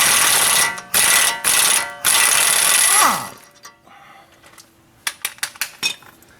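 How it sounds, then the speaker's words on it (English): An impact wrench hammers a tie rod bolt on a 2007 Chevy Trailblazer, with three loud, dense bursts over about three seconds, then quieter scattered clicks and a few short sharp knocks. "impact wrench."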